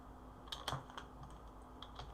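Typing on a computer keyboard: a short, quiet run of scattered key clicks with uneven spacing, close by, and no voice.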